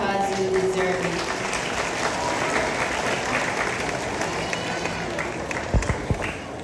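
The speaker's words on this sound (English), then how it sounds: "please give yourselves a round of applause because you deserve it" High school graduates clap together at a graduation ceremony in a broad, sustained wash of applause from a large crowd, with a voice speaking over it and the clapping thinning toward the end.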